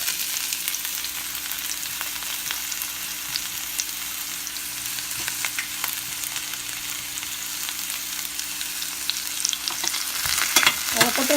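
Chopped onions for a pepper chicken gravy fry in a hot pan with a steady, close sizzle, stirred now and then, with a brief clatter near the end and no talk.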